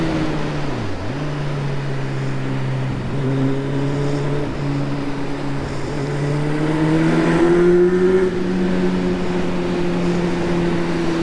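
A motorcycle riding fast through the Gorges de la Bourne, its engine droning steadily up close, the pitch dipping and climbing through gear changes and revs across the ride.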